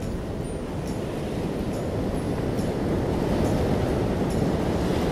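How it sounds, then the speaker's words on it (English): Ocean waves wash up at a beach in a steady, loud roar of surf, unbroken and rushing throughout with no voices. "Okay, this is the sound of the wave."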